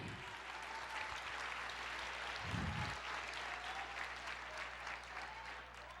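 A church congregation applauds during worship, a faint, distant, steady wash of clapping with a low hum beneath it.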